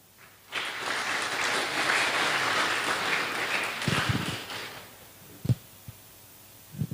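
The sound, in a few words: audience applause at a conference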